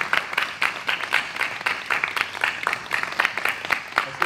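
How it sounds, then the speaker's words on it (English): A small audience claps after a performance, uneven bursts of hand claps coming and going in a loose rhythm, fairly close and moderately loud. "another round of applause for Michael Paul Smith"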